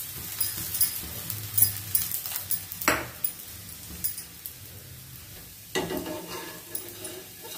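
A moong dal dosa flipped on a griddle and cooking in ghee, a soft steady sizzle with a few sharp scraping clatters from the spatula, close and without talk.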